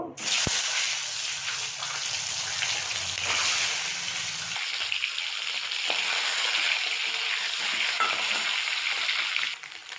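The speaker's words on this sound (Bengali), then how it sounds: "ডিমগুলোকে প্রথমে ভেজে নেব" Eggs sizzle loudly in hot oil, a steady crackling hiss with occasional utensil scrapes and taps throughout.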